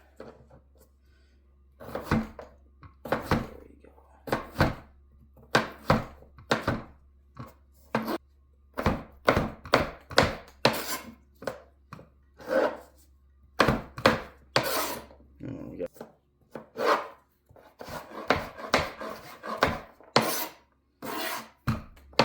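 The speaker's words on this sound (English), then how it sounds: "So I'm cutting them a little bit smaller than you might, but not that much." A knife chops beef into small pieces for stew on a board, giving irregular sharp knocks and cuts that come close and clear, sometimes in quick bursts and sometimes with pauses between them.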